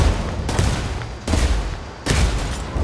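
Three heavy bursts of gunfire in Ghost Recon Wildlands, each sharp onset followed by a rolling decay, evenly spaced and loud.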